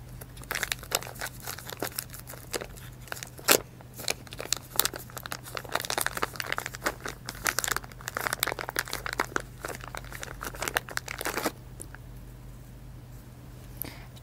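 A blue VCI anti-rust bag holding an injector control valve being handled, giving loud, close, irregular crinkling and rustling bursts that run for about eleven seconds before falling quiet, with no talk.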